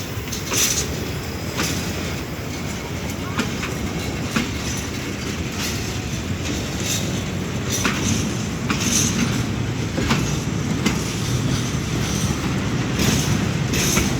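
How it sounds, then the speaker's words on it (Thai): Container freight train number 726 slowly pulling away from a station, a steady rolling rumble with repeated wheel clicks over rail joints and brief metallic squeals, continuous and fairly close, with no talking. "ค่อยๆ ออกตัวนะครับสำหรับขบวนรถสินค้าตู้คอนเทนเนอร์ครับผม"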